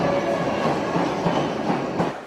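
A rare London Underground Olympia service train passes through Earl's Court station, a steady loud rumble with faint wheel clicks and rail noise continuing throughout.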